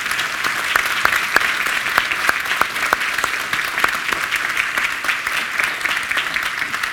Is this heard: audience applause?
yes